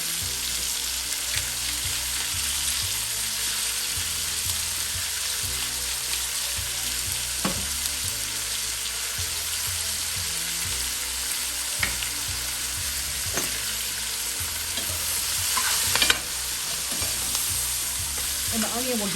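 Onions and a shallot sizzling in a pan while being stirred, giving a steady close sizzle with repeated scraping across the bottom and a few sharper clinks, over a low background hum.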